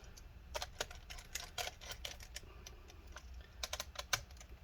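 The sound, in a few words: putting screws back into a Dell Inspiron laptop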